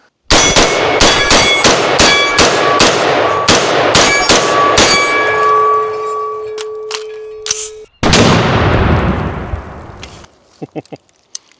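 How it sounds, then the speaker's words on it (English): A metal bell clangs loudly in a rapid series of strikes, ringing out and decaying, then one final heavy clang with a long fading tail. "Time to ring that freedom bell."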